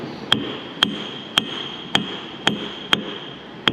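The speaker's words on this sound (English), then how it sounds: "You got your little tappy hammer?" A small hammer taps a pin on a hydraulic cylinder of an IH 175C crawler track loader, giving seven sharp, evenly spaced metallic pings with a bright ringing tone, close up over a low background hum.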